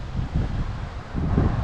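Strong gusts buffet the microphone outdoors at a trailer park during lawn mowing, a loud low rumbling roar that swells and eases in waves.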